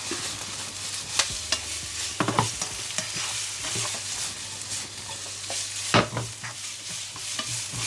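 Garlic fries in a pan for a one-pan chicken sauce, giving a steady close sizzle with scattered scraping and stirring clicks throughout.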